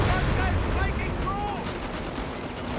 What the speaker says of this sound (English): he's dropping in some strafe action